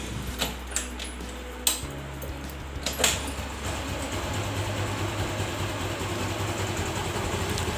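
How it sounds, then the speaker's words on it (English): Keys jingle and clicks sound before a warm TVS Jupiter scooter engine starts and settles into a steady, low idle that continues to the end. "Let's start the engine."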